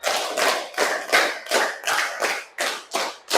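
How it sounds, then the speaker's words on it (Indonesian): Classroom students clap a counted pattern together after a science experiment on liquid pressure, giving seven or eight strong unison claps in a steady rhythm, each a broad, close burst with no talking. "Tepuk 1, tepuk 2, tepuk 3, tepuk 4, tepuk 5, 2 kali tepuk 5"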